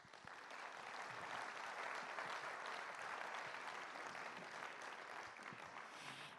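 An audience applauds to welcome a speaker onto the stage at a talk about the Mauges bocage, with steady, sustained clapping from the crowd that fades slightly at the end.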